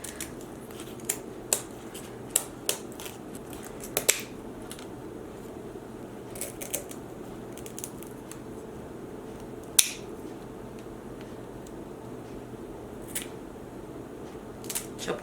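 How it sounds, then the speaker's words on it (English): Kitchen shears snip the fins and tail off tilapia fish: scattered crisp clicks and snips, some single and some in short bursts, close and fairly faint over a quiet kitchen hum. "I'm just going to be using my pair of kitchen shears here to chop off all these things on the sides of the fish"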